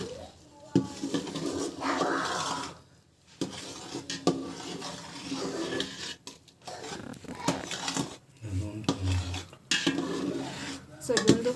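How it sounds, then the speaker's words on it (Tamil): Peanut laddu flour mixture is stirred steadily in a pan, with continuous scraping and clinking of a utensil against metal close up, while a voice talks over it at times. "ஸோ இது கலக்கினே இருக்கணும்."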